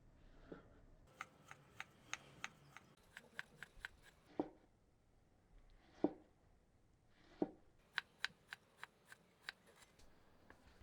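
Knife chopping two small tomatoes finely on a cutting board, heard as quick bursts of sharp, close taps in a steady rhythm with a few heavier isolated chops between the runs.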